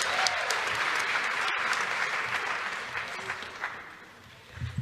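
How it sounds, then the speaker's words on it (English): An audience at an African American Youth Achievement Awards Black History Month celebration applauds the group Soul Creation, dense clapping that holds steady and then gradually thins out toward the end. "Another round of applause for Soul Creation"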